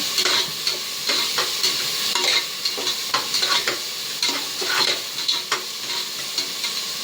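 Tomatoes sauté in a pan for goat head curry, with a continuous sizzle broken by frequent scraping stirs of a spoon at an uneven rhythm, close up and without speech.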